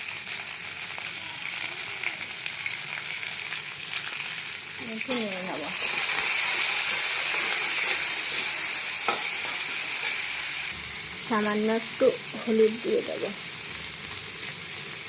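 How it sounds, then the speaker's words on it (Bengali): Ivy gourd (kundri) sizzles steadily in hot oil in a home kitchen pan, with a continuous frying hiss throughout and occasional stirring clatter, while someone speaks briefly over it. "তো আমার তেলটা গরম হয়ে গেছে, আমি কুন্দুরিটা দিয়ে দেবো।"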